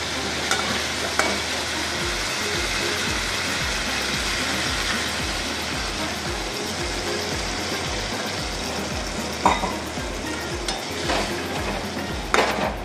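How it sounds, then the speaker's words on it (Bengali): Spice masala of ground coriander, cumin, turmeric and garam masala sizzles steadily in a pan as a little water is added, a constant loud hiss with occasional sharper crackles and spatters throughout. "মশলাটা আমার কষানো হয়ে গেছে, এবার আমি সামান্য জল দেবো।"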